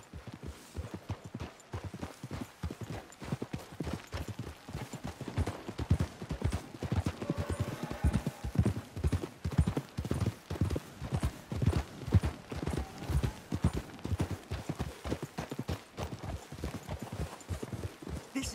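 Horses ridden in Red Dead Redemption 2 clop along at a steady walking rhythm, hooves striking in close repeated beats throughout, moderately near and with no talking.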